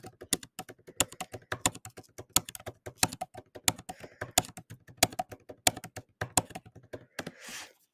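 Rapid, uneven clicking of keys on a computer keyboard, close and steady for several seconds with short pauses between bursts.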